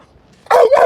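Two quick, loud barks from a dog close by near a lakeside spot at Big Bear Lake during trout fishing; faint ambient quiet precedes the barks, no talk.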